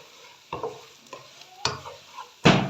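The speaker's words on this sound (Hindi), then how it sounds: "अब इन सब चीज़ों को मैं अच्छे से करूँगी मिक्स" A spoon stirs Hyderabadi-style okra with spices, dried pomegranate seed and carom seeds in a pan, making four separate scraping strokes with a faint sizzle between them, the last stroke loudest.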